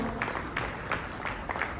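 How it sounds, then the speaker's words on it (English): An audience at a skill-development conclave on the aerospace, defence and MSME sector claps together in a hall, a short burst of applause with a few louder individual claps standing out. "Let's have a huge round of applause"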